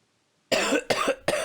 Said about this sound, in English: Oh, excuse me, I'm coughing up now.